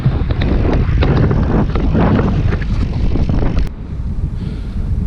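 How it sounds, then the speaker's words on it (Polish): Strong wind roars and buffets against the microphone of a rider mountain biking along a path, a loud, close, rumbling gusty noise that drops somewhat toward the end, with no talk. "Strasznie wieje."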